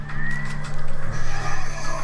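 Horses in a video game neighing in a steady, repeated whinnying pattern, fairly loud and close, over a constant droning background, with no talking.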